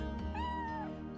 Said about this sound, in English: And a nice little old kitty cat with very big ears.